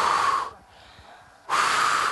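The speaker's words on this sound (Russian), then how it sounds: "Надо выдыхать вот." A cross-country skier breathes hard, with two long, loud, breathy exhales close to the ear, separated by about a second of near quiet.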